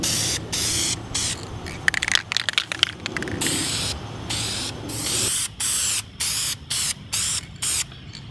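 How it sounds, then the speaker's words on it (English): A spray paint can hisses close up while painting a skateboard, first in a long continuous spray, then in a series of short, evenly spaced bursts. "You really have to be patient when you're spray painting"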